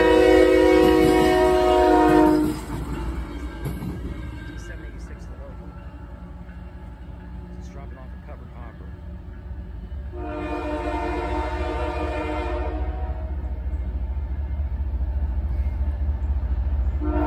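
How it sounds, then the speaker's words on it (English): A CSX GE ES44AC diesel locomotive heading eastbound sounds a loud, sustained multi-tone horn blast, then rumbles past with steady rail and wheel noise before a second long horn blast near the end. "here comes the ES44AC-8 eastbound."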